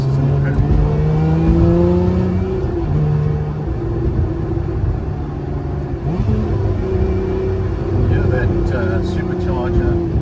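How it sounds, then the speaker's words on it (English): A 2023 Lotus Emira with a supercharged petrol engine revs and rumbles loudly throughout, its pitch rising and falling as it accelerates, with a voice talking over the engine. "That supercharger working overtime behind us."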